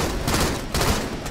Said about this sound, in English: I'm getting shots on one of them.